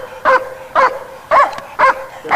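A dog barks four times in an even rhythm, close and loud, each bark short and sharp.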